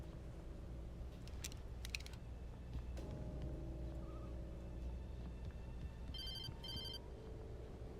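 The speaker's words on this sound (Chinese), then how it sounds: "我要接手机吗？" A phone rings in the video game Alan Wake Remastered, faint repeated electronic chirps in short bursts over a low, steady ambient drone, with no talk.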